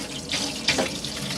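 Water gushes from a motorhome kitchen tap with the water pump switched on, a steady pressurised splashing into the sink at close range, with a brief louder spurt partway through and no voices.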